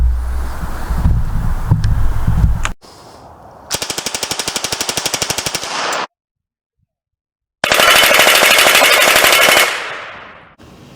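A full-auto Thompson submachine gun fitted with a .22 conversion fires two long, loud, close rapid bursts separated by silence, preceded by wind buffeting the microphone.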